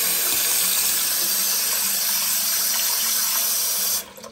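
Cold water running steadily from a tap into a sink in a camp kitchen, a continuous close hiss and splash that stops abruptly near the end.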